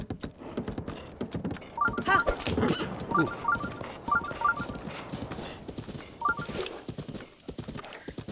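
Horse hooves clip-clop at a steady gallop in the video game The Legend of Zelda: Breath of the Wild, with a brief whinny mixed in and a voice speaking over parts.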